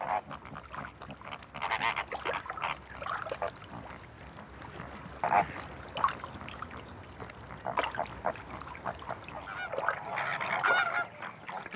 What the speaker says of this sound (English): the flamingos congregate close to their breeding grounds